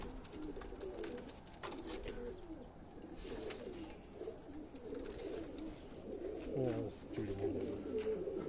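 Pigeons bred from a bird-fancier's line coo on a rooftop, soft repeated low coos and some bird calls recurring throughout at moderate distance, with someone talking over them.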